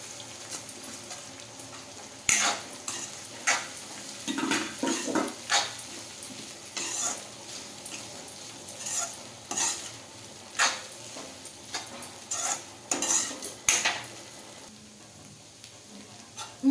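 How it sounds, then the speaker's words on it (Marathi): Soaked poha stirred into onions in a pan for kanda poha, giving a steady low sizzle with repeated scraping and stirring clatters across the whole stretch and no voices. "आता भिजलेत पोहे आता पोहे यात टाकूया आपण"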